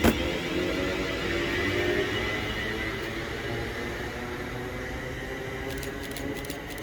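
A train departs Stafford station on the West Coast Main Line on a Liverpool service, a steady broadband rumble and hiss holding loud and even at close range, with no voices.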